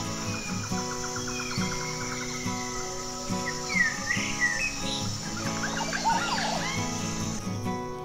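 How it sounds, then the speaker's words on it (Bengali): Morning in a jungle, with birds chirping and calling from a distance in scattered bursts over a steady hum of insects and background sound, without any talk. "নিশ্চয়ই শুনতে পাচ্ছ পাখিদের আওয়াজ দূর থেকে ভেসে রয়েছে"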